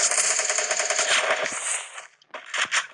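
Rapid automatic gunfire in the mobile battle royale game Free Fire, a close, loud string of rattling shots that runs for about two seconds, breaks briefly, then returns with a few more quick bursts.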